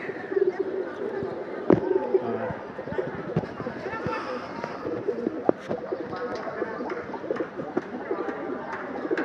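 Pigeons coo steadily in a loft, soft throaty calls overlapping in a dense, continuous layer with a few sharper taps and flutters, while voices murmur in the background.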